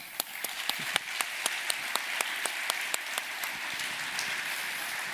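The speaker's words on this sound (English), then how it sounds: "So let's give them another round of applause." A small audience gives a round of applause at a trophy presentation for a hacking contest, with scattered distinct claps over a soft continuous patter, moderately distant.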